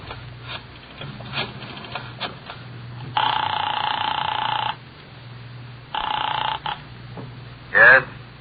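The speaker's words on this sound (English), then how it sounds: "I dialed the Kelsey residence." A telephone rings after dialing in an old radio drama, two long bright rings separated by a pause over a low hum, with a short chirp near the end.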